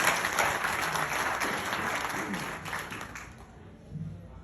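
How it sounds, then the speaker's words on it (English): An audience applauds steadily, the clapping dense at first and gradually thinning out toward the end. "Dr. Abdul, can you clap for her?"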